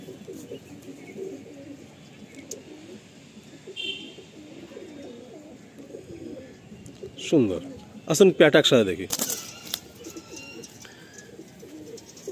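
Madrasi pigeons, a Lalsira male of Andhra stock and a Bengal female, coo in low repeated burbles throughout, fairly close, while someone talks over them and a brief louder flutter or scuffle breaks out midway.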